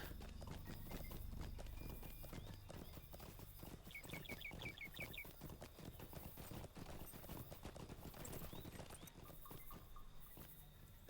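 Horse hooves clip-clop steadily in Lord of the Rings Online near an orc camp with palisade walls, a continuous rhythmic trot under busy game ambience and brief chirping effects.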